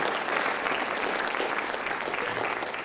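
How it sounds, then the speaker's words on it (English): An audience at a school writers expo applauds loudly and steadily, a dense wash of clapping from many hands that holds for the whole stretch and tapers slightly at the end. "Round of applause."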